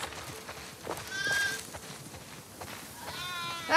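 Sheep on a farm in the video game The Last of Us Part 2 bleat a few times, wavering calls rising over faint rustling ambience with short gaps between them.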